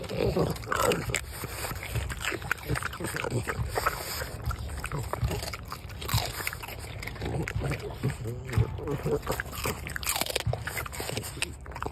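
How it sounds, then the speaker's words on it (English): A dog crunches and chews a treat outdoors in blustery, freezing weather, close-up biting and crackling crunches repeated over wind noise with voices talking alongside. "Crunchy dog ASMR."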